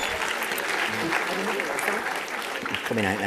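An audience bursts into sustained applause welcoming a speaker onto the stage at a hospitality convention event, dense clapping filling the room throughout, with a voice briefly audible near the end.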